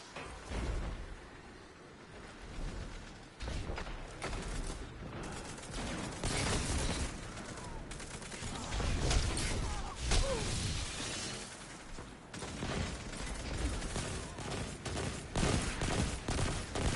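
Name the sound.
burst-fire gunshots in Destiny video game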